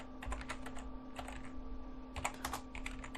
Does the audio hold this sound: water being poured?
no